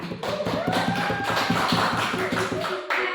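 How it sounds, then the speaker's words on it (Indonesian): A classroom of students applauds a student group, giving steady, dense clapping from many hands close by that carries on for a few seconds without talk. "beri aplaus dulu untuk kelompok 2"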